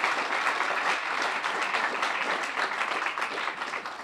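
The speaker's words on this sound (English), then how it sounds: "that's worth a round of applause" Steady applause from an audience, a dense, even wash of clapping that lasts the whole time.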